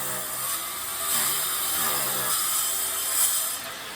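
A hand saw cuts back and forth through stone during a stone installation, producing repeated harsh rasping strokes in a slow steady rhythm, close and moderately loud, with no talking.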